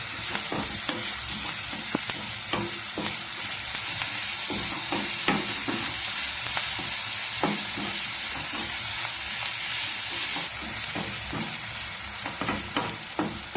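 Onions frying with salt in a pan, a steady loud sizzle with repeated stirring scrapes throughout, close up and with no voices.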